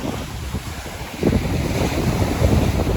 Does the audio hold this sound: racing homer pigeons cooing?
no